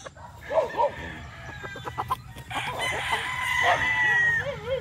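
A Boston Roundhead gamefowl rooster crows loudly nearby in a long, drawn-out call, with short clucks and scratchy farmyard noise before it.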